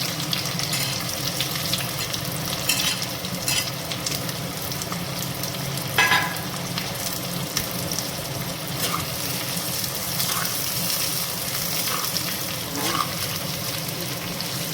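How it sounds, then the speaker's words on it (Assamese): Dense, continuous sizzling of onions frying in hot oil, close and loud, with occasional light clinks and stirring taps throughout. "এতিয়া তেলখিনি গৰম হৈ গ'ল, গতিকে প্ৰথমতে মই পিঁয়াজখিনি ভাজি ল'ম।"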